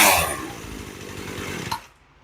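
A Poulan Pro chainsaw fitted with a new carburetor idles and runs steadily close by, then drops off abruptly near the end.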